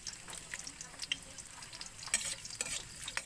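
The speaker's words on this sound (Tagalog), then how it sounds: "Magpapula tayo ng isang sakong bawang" Garlic stirred and frying in a pan, with a steady soft crackle broken by brief scraping strokes close by.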